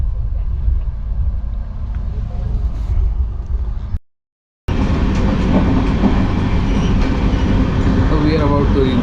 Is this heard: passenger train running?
yes